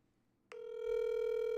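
A telephone ring tone starts abruptly and holds as a steady, clear electronic tone while a call is placed, heard alone and close.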